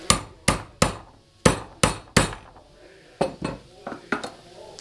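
A hammer strikes a pen to drive a bicycle pedal bushing into place: about a dozen sharp, ringing metallic knocks, evenly spaced at first, then lighter and quicker, close by.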